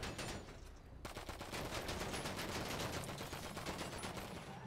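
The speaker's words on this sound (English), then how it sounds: "Well, why are you shooting me?" Rapid bursts of gunfire from a video game, crackling in dense volleys after a brief lull, fairly quiet and with no talk over it.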